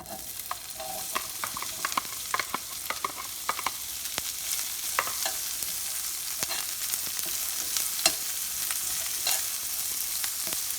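Steady hiss and crackle of onions frying in a hot pan, with scattered pops and occasional stirring scrapes throughout, close and moderately loud.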